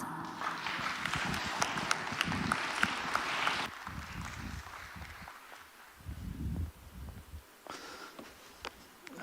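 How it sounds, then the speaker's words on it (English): Audience at a Foxconn tech day event applauding as chairman Young Liu walks on stage, a dense burst of clapping that cuts off abruptly, followed by quieter shuffling and thumps. "Please welcome Mr. Young Liu with a round of applause."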